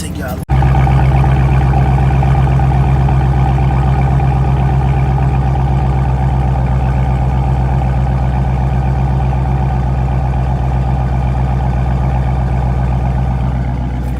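A 2017 Dodge Charger Scat Pack engine with a mid-muffler delete starts with a sharp burst, then settles into a loud, steady, deep idle with a raspy exhaust rumble that holds close and constant.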